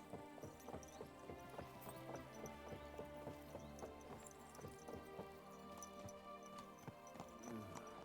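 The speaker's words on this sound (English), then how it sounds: "Watch out with that horse!" Horse hooves clip-clop at a steady walking rhythm in a medieval tournament video game, moderately loud amid a busy layer of game music and ambience, with no voices.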